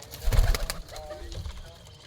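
Baby pigeons coo softly at close range, a low murmuring under some louder fluttering and rustling at the start.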